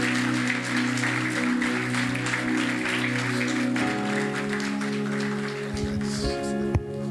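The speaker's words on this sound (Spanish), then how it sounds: "Un fuerte aplauso" A church congregation applauds in a steady, dense wash of clapping, with sustained organ or keyboard tones playing underneath and a few accents near the end.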